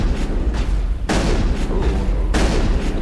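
Shotgun fire in Mass Effect: two or three heavy, booming blasts spaced about a second apart over a constant low rumble, loud and close.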